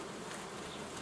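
Honeybees buzzing at a beehive in an apiary, a dense continuous hum heard up close and steady throughout.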